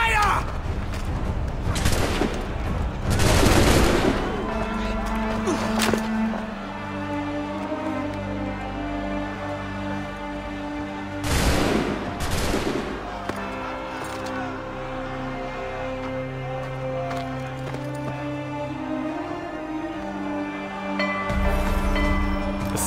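A gunfire volley in Assassin's Creed 3, loud booming blasts in two bursts with heavy rumbling tails, amid game ambience, clanking mechanisms and occasional voices.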